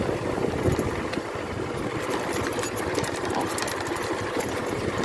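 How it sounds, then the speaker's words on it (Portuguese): A motorcycle engine runs steadily as the bike crosses a riverbed near a burst water dam after heavy rains, a continuous close mechanical rattle and hum with water and gravel noise. "Aqui a gente atravessa na moto,"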